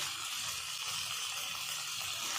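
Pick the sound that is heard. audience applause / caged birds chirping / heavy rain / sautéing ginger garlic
sautéing ginger garlic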